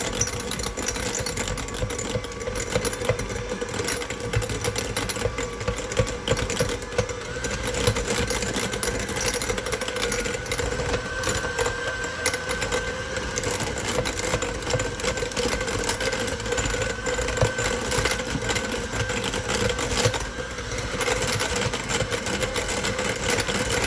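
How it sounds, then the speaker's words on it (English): An electric hand mixer whips strawberry vegan cream cheese frosting in a bowl, a steady mid-pitched motor whir with faint beater rattle that runs continuously for the whole stretch, moderately loud and close, with no talking. "we're going to take our hand mixer and just combine them together until they're nice and light and"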